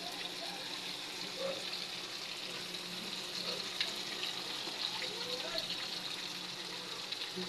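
Oil frying in a pan on a home stove, a steady close sizzle running throughout with faint clinks and kitchen movement, no talk over it.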